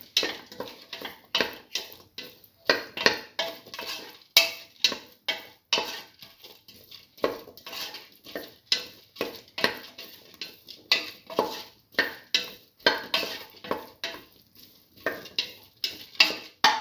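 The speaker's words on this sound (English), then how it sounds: "Saute mix." Red lentil and bottle gourd mix being sautéed in a pan, with a steady run of close scraping and clattering stirs of a utensil against the metal, repeated in quick rhythmic strokes with no talking.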